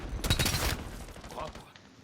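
An assault rifle in the video game Black Ops 7 fires a short, dense burst of shots that ends quickly, followed by a quieter tail, with a voice faintly under it.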